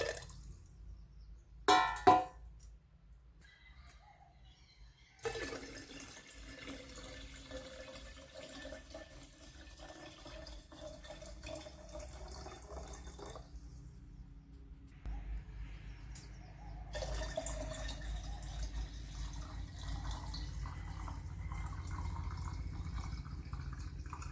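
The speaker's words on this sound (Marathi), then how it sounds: "हे भरून आत्ताला बरणी पाणी ओतायचं आहे" Water is poured into a jar of chili-spiced kanji, a probiotic summer drink. After a few knocks and a quiet pause, a steady, close pouring stream runs on without talk.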